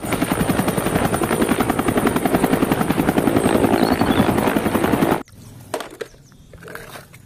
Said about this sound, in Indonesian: Wah, yang ini helikopter.